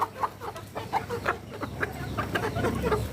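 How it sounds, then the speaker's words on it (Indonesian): Free-range village chickens crossed with Bangkok fighting chickens cluck in short repeated bursts from close by over steady low farmyard hum, with no voices. "Ini ayam kampung campuran dengan ayam Bangkok ya"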